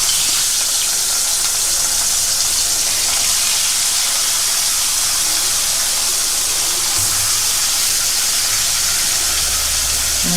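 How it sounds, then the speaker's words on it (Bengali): Fish just added to hot oil in a home kitchen pan, a loud, dense, continuous frying hiss and roar that barely changes across the whole stretch, close up and with no voices. "মাছগুলো ভাজা হোক।"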